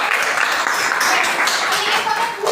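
An audience claps together for Neha ma'am at a training session, a dense, steady burst of many hands filling the room without a break.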